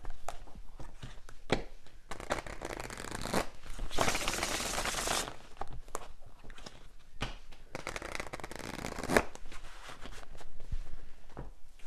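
Tarot cards being shuffled, with a dense papery riffle and flutter building into a loud burst midway, then softer handling and taps around it, close and without talk.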